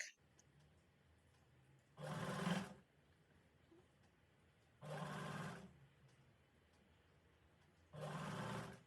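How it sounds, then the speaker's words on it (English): Sewing machine stitching blouse fabric for a princess-dart bustier blouse, three separate bursts of rapid whirring stitching, each about a second long with quiet pauses between, close and fairly faint. "you're going to continue to sew it straight all the way to the back"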